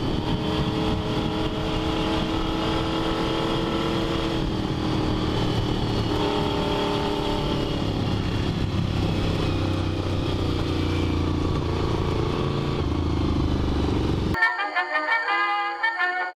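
A Despatch Tracker motorcycle being ridden gives a continuous, close engine drone with shifting pitch and clattering undertones, ending abruptly as a short music sting takes over.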